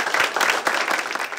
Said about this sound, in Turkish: Bir alkışlayalım.